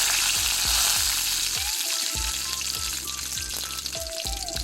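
Mustard seeds, urad dal, dried chillies and cumin tempering in hot oil for sambar, a dense close crackle and popping sizzle with a few brief clinks and tones, no speech.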